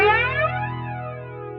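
An Aroma Twister flanger pedal, a Tomsline clone of the Electric Mistress, howls in self-oscillation: a loud, sustained whooshing tone with steady low drones and sweeping upper harmonics that glide downward, heard alone with no talking.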